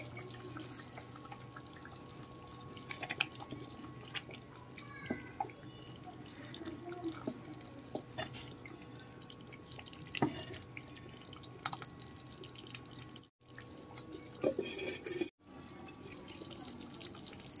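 Amaranth leaf tamarind stew (thotakura pulusu) simmers in a pot, giving soft, scattered bubbling pops and drips over a faint, steady background hiss.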